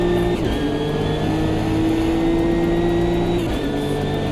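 A Nismo race car in the video game Assetto Corsa EVO holds a loud, steady engine drone at high revs, with a brief dip and gear change near the start and again toward the end.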